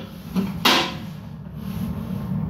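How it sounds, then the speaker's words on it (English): The door of a waste-oil burner Minion stove shuts with a single sharp clunk, followed by a low, steady roar of air drawn through holes at the bottom. "listen for the bit of a roar when I close the door, and all the air has to go through those holes at the bottom"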